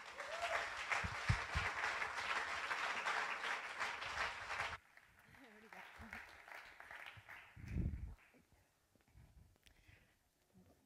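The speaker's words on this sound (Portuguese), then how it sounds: "uma salva de palmas para a Diana" Audience at a panel event applauds as a young speaker takes the stage, a loud burst of clapping that cuts off abruptly after a few seconds, followed by quieter room noise and a brief voice.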